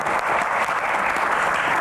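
Steady applause from a studio audience on an Indonesian talk show about the hajj quota and cartel, dense and even throughout, with no pauses or voices.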